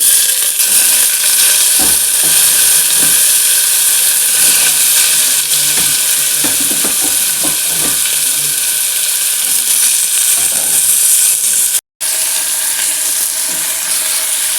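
Blood fry (nalla fry) meat pieces sizzling loudly in a pan with onion, ginger-garlic and turmeric, a steady close hiss throughout, a brief clatter of stirring near the start and a momentary cutoff near the end.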